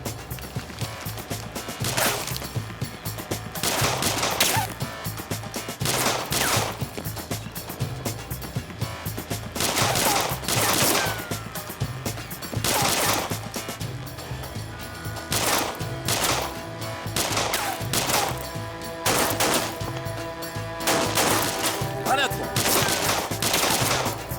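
Repeated bursts of gunfire, some rapid and automatic, others single loud shots, sounding close and continuing in clusters throughout.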